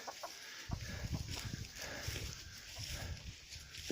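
Hens and roosters cluck quietly in a farmyard with a series of short, scattered calls. Faint background noise sits under them, and a voice may be heard softly.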